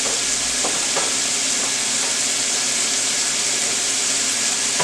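Mild Italian sausage frying in a pan, a loud, dense, continuous sizzle close by with occasional small pops and no talking.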